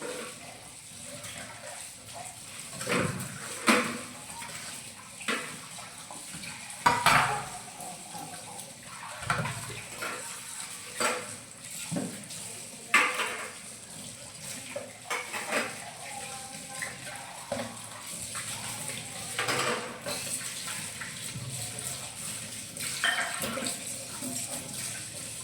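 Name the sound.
washing dishes and pots with running water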